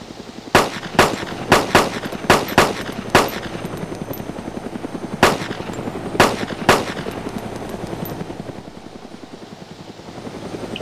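Video game gunfire in a naval battle scene with heavy 16-inch guns, a series of loud sharp shots in an irregular burst of about a dozen over several seconds, each with a ringing tail over a steady low engine drone.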